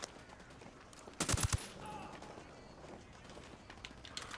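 A brief, quick burst of about three gunshots in Ghost Recon Wildlands, set against a quiet, faintly noisy background. A low ambient bed continues afterward.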